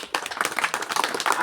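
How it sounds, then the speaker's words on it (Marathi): An audience at a motivational mind-training talk breaks into brisk clapping, a dense close patter of many hands that starts suddenly and keeps up throughout, with no one speaking. "आता टाळ्या होऊन जाऊ"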